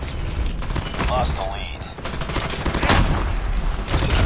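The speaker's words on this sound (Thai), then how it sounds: "อย่างแรกปืนลั่นไวอยู่แล้ว" Rapid automatic fire from the PDW-57 submachine gun in Call of Duty Mobile, a dense steady rattle of shots running nearly the whole time, loud and close, mixed with game sound effects.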